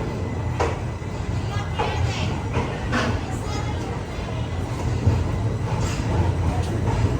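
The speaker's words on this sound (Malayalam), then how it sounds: "മൈസൂരു ജംഗ്ഷൻ റെയിൽവേ സ്റ്റേഷനിൽ കറക്റ്റ് 9 മണിക്ക് തന്നെ കാവേരി എക്സ്പ്രസ് എടുത്തിരിക്കുകയാണ്." Continuous rumble and rattle of the Kaveri Express running from Mysuru toward Chennai, heard from inside a sleeper class coach, with steady low-frequency track noise and periodic clanks, and voices talking faintly in the background.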